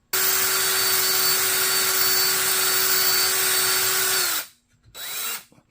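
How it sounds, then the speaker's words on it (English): A power drill fitted with a masonry bit bores a hole, a loud, steady, close whine with a constant motor tone that runs for about four seconds, winds down, then gives a brief second burst. "Now, before I separate this, we got to drill a hole right there."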